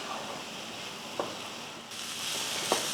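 Vegetable poriyal with coconut fries in a pan with a soft, steady sizzle. Two brief scrapes of stirring break through, one near the middle and one near the end.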